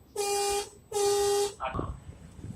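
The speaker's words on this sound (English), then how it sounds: "I'm going to honk twice, and this horn is very weak" Two short, flat blasts from a weak horn sound one after the other, followed by a brief burst of talking.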